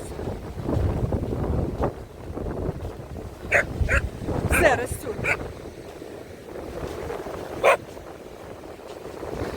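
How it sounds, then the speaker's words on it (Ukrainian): A dog barks in short bursts a few times over windy outdoor noise and a woman's speech, with stormy sea waves rushing in the background on an Odesa beach. "вона гавкає на мене, що небезпека"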